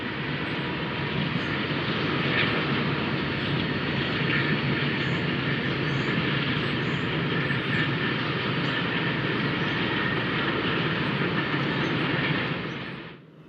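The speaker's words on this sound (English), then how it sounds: "Union Pacific has trackage rights on the BNSF between Kansas City and Chicago and runs several trains through here, like this one on the passenger main." A Union Pacific freight train rolls by on the BNSF passenger main at Galesburg, a loud, sustained rumble and roar close by that holds steady and then drops off sharply at the end.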